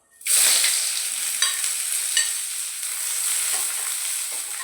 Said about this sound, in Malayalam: ഇനി നമുക്ക് ഇതിലേക്ക് സവാള ചേർത്ത് കൊടുക്കാം